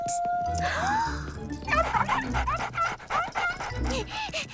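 Several cartoon dogs yip, whimper and bark in quick, high-pitched bursts, close and lively, mixed with a voice and light music.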